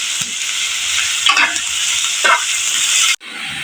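Onions and carrots frying in a pan give a loud, steady sizzle, broken by a couple of brief stirring scrapes before the sound cuts off abruptly.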